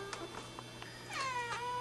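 A cat meows several times close by, short chirpy calls ending in a longer, drawn-out meow over a faint steady hum.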